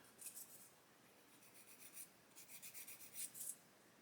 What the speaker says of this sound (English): Let's get that sanded